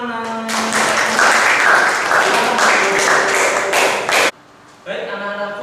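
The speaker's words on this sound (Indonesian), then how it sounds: "Tepuk tangannya mana?" A school class of students bursts into loud, dense applause during a religious studies lesson, sustained clapping that stops abruptly, followed by a teacher's voice speaking.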